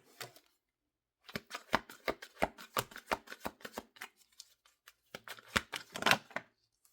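Rapid riffling and snapping of a deck of tarot cards being shuffled up close, in quick bursts with a brief pause between rounds.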